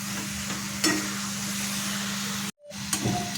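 Cardamom powder is stirred into a cooking coconut filling for puran poli, producing a steady hiss of sizzling with a few light scraping clinks and a brief cut in the sound, close up with no talking.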